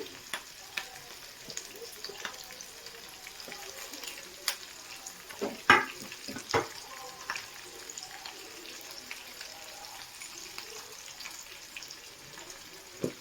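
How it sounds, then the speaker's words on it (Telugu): Chopped onion and green chillies fry quietly in a pan for poori curry, giving a low steady sizzle. A few sharp clinks and stirring knocks sound near the middle. "తరిగి పెట్టుకున్నటువంటి ఆనియన్, పచ్చిమిర్చి ఇలా వేసేసుకుని కొద్దిగా మగ్గనిద్దామండి."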